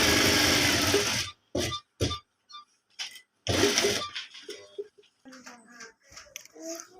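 A tailor's sewing machine runs stitches along the folded edge of a frock in three short bursts of whirring, close and fairly loud, followed by quieter handling noises and brief sounds of cloth.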